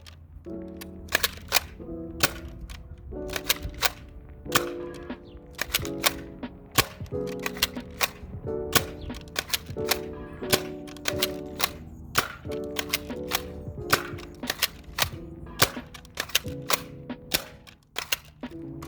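An Adventure Force Aeon Pro foam dart blaster firing a long rapid string of sharp mechanical snaps and clacks with a motor hum between shots, close and crisp, steady rhythm, no voices.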